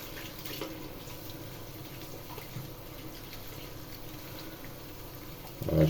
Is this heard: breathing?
no